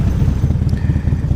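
A 2016 Harley-Davidson Low Rider S (FXDLS) with its 110 engine rumbles steadily and loudly nearby, a deep throbbing idle with a fast, even pulse and no speech.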